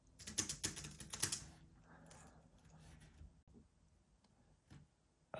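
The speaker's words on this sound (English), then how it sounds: "you can put it like this or horizontally and type something." Fast bursts of crisp key clicks from a Palm Portable Keyboard converted to Bluetooth, loud at first and then thinning to scattered quieter taps, close and alone without talk.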